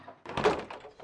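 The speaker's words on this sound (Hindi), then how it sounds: "दरवाजा खोलो अंजलि" A single heavy thud lands on a door, a short, close, dull bang in a Hindi TV crime drama scene.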